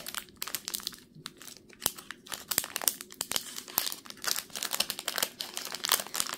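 Basketball card pack wrapper crinkles and tears in a busy run of sharp, irregular crackles, close up and fairly quiet, with no voices.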